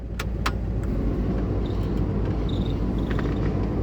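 A 1994 Ford F250's air conditioning blower runs steadily inside the cab, a constant broadband whoosh over the idling engine, with a few light clicks and faint rattles on top.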